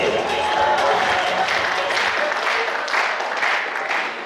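An audience at a student KVN comedy cup applauds during an awards ceremony, a steady crowd clapping that holds for about four seconds and thins slightly at the close.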